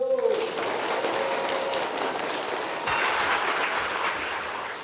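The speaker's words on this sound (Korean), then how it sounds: "박수 한번 쳐주세요" A church congregation gives a round of applause while waiting for a student speaker, steady, moderately loud clapping throughout, with a brief voice near the start.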